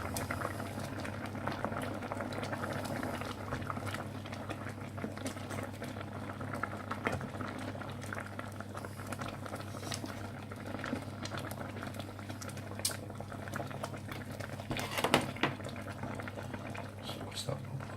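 A pot of vegan tandoori masala curry simmers steadily on low heat, giving a continuous close bubbling and popping with a low stove hum underneath and one brief louder burst near the end.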